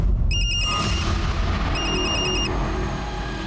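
A mobile phone rings with short repeated electronic tone pulses in two bursts, set against a steady loud background noise.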